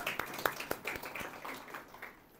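A church congregation claps hands in thanks to God, a quick uneven burst of claps near the start that thins out and fades into the room.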